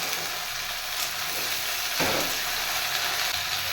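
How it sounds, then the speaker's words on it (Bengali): Potato, vegetables and spring onion frying in a pan, a soft, steady sizzle and hiss close by with a brief louder stir near the middle, no talking. "সবজির সাথে এখন একটু হালকা ফ্রাই হবে"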